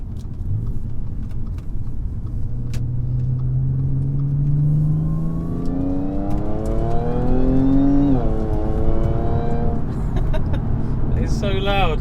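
An Audi S4 B8 with a supercharged engine and an open filter intake drives and accelerates, its intake roar and rising supercharger whine climbing in pitch through the gears, loud and close, with people talking over it.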